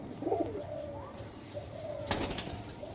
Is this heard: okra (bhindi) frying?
no